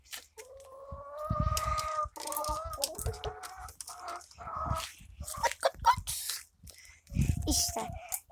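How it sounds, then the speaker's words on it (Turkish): A rooster out in nature squawks and clucks in agitated bursts, close and fairly loud, mixed with rustling and footsteps while someone talks over it. "bu deli horozumuz bize saldırıyor"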